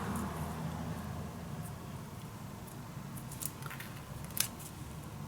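Scissors snip through a paper strip during a papercraft mini album project, a few faint sharp cuts near 3.5 and 4.4 seconds over a steady low background hum.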